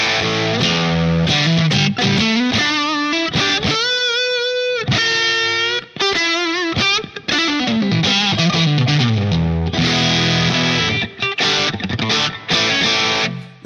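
An electric guitar through a Line 6 Pod HD500 running its Blackface Lux Vib (Fender Deluxe Reverb vibrato) amp model, with the drive cranked, plays loud, thick distorted notes and ringing chords continuously with no talking.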